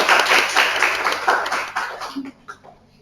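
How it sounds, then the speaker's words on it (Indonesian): A small online class claps for a student group that has just presented, a few hands patting unevenly for about two seconds before thinning into scattered taps and near silence. "kita beri tepuk tangan untuk kelompok 2 yang sudah mempresentasikan hasilnya"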